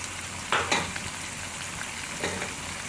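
Chicken pieces fry with ginger garlic paste for a biryani, giving a continuous close hiss and sizzle, with a couple of brief stirring scrapes near the start and one later, no talk.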